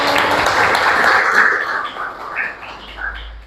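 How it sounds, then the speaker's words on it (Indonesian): Applause in a classroom during a lesson on law: a dense, steady wash of clapping from a group of students that fades and thins toward the end. "Tepuk tangan dulu dong"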